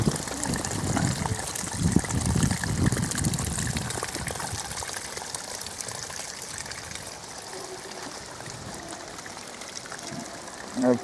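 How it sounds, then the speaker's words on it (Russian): A small stream flows in a steady, soft rush of running water in Kyiv, with some low rumbling in the first few seconds. "Вот еще один ручей."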